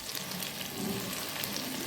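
A finely ground paste of coconut, onion and spices sizzles and fries steadily as it goes into a goat head curry, a soft continuous crackle with faint stirring.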